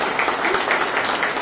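A crowd at a retail workers' union meeting in Volta Redonda claps loudly and steadily, a dense, close burst of many hands filling the room without any pause.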